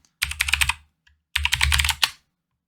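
Two quick bursts of typing on a computer keyboard, with rapid clicking keystrokes close to the mic, separated by a brief pause, with no voices.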